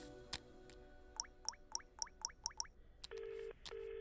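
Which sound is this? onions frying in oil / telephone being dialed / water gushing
telephone being dialed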